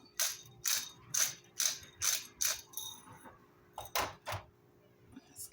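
A peppercorn medley grinder cranks in a quick series of about eight close, crisp ratcheting grinds, pausing briefly before a few more turns, in a quiet kitchen.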